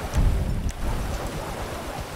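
Steady rain in the video game GTA 5 hisses across a broad wash of noise with a few low rumbling thumps near the start, with no talking.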